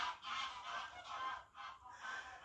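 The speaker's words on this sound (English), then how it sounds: "Geese flying over." A flock of geese honking as they fly overhead, a run of repeated nasal calls overlapping in uneven bursts, moderately distant and alone without talk.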